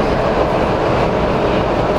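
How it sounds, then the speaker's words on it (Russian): A Lastochka electric train passes on a Moscow suburban line near Povarovka, a loud, steady rushing roar of wheels and motors that holds at full strength for the whole stretch, with no voices. "Едет сейчас «Ласточка»,"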